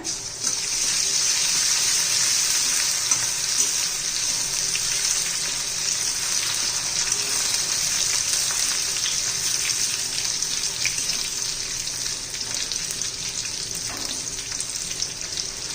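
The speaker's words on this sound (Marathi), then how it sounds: "तेल छान गरम झालेलं आहे आता त्यात आलं आणि लसूण घालून घेऊया" Ginger and garlic sizzling in hot oil for chole, a steady hissing crackle that holds at an even level throughout, close by, with no talk.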